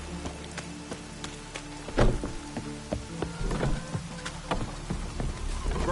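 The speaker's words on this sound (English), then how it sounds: "Maybe we needed a spot of rain." Rain falling in the Witcher 3 video game on PS5, a steady broad hiss of rainfall with scattered thuds and clunks from other game sounds.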